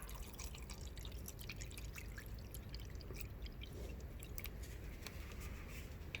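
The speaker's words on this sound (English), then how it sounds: "I'll fill it up with water." Water runs into a small-parts cleaner holding dirty parts, a soft, steady trickle with light dripping and splashing, faint and close throughout.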